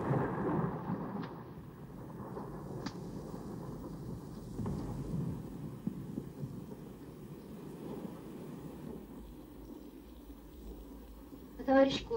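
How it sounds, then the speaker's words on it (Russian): Rolling thunder from a thunderstorm in a 1941 Soviet film scene, a low continuous rumble that swells and fades across the whole stretch, with a faint voice and a brief sharp sound near the end. "А товарищ Колчин что, испугался грозы"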